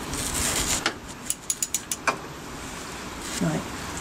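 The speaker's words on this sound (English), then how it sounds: "We need to get this ratchet on there." Ratchet on a Mk3 Ford Cortina Estate, clicking in a quick run of about six sharp mechanical ticks, then a single click and a low clunk, close by against quiet background.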